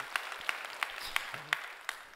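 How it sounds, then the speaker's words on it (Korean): Sparse, faint clapping from a church congregation during a service, a few evenly spaced claps at a steady pace that sound quiet and somewhat distant. "우리 박수 한번 해주시면 고맙겠습니다"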